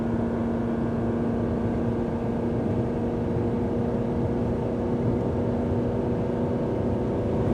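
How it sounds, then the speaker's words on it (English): Cabin of a 1995 Ferrari F355 Berlinetta cruising at about 80 mph below 3,500 RPM, a steady loud drone of engine hum, road and wind noise with no talking throughout. "I'm just going to spare a moment of complete silence to listen to what it's like in this cabin at highway speeds."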